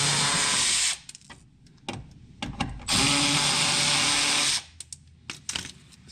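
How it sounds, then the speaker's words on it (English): A power tool whirs loudly in two sustained bursts while removing the oil pan screws on a 2016 Mercedes GL350 with the OM642 diesel, with clanking and handling noises between runs. "I believe we missed a couple of screws, so we'll just be removing these now."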